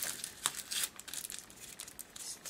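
Aluminium foil pressed into a paper mache dress form, with close, quiet crinkling and crumpling in irregular bursts.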